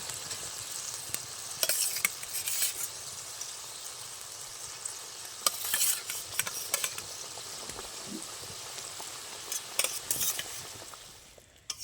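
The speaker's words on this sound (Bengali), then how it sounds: "এবার ভেজে রাখা বেগুনগুলো দিয়ে দেবো" Continuous bubbling sizzle as fried eggplant is stirred into boiling gravy, with repeated stirring scrapes and occasional utensil knocks, steady throughout and without voices, ending abruptly.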